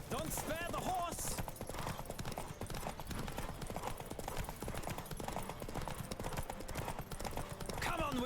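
Rapid galloping hoofbeats from a horse race in The Witcher 3, a dense drumming rhythm throughout, with a brief voice and game sounds layered on top.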